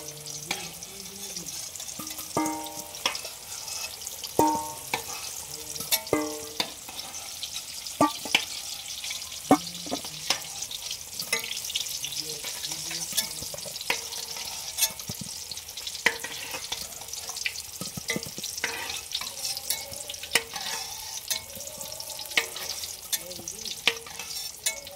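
Potatoes for chicken biryani frying in oil, a steady close sizzle with clinks and scrapes of a spatula as pieces are stirred and lifted out, continuing without pause for the whole stretch.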